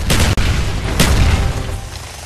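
A frag grenade explodes in a first-person shooter video game, a loud booming blast with a sharp crack partway through and a second burst near one second, then the rumble slowly fades; no talking over it.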